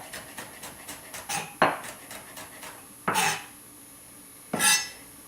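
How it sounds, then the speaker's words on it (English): Several sharp knife strikes against a cutting board as a red pepper is chopped, irregularly spaced, with lighter taps between louder chops; close and fairly quiet. "Now I'm going to just cut a few strips of the red pepper and chop it up"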